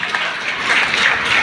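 Applause from a church congregation during a Sunday service, a steady wash of many hands clapping together for a moment, loud and even with no talk on top.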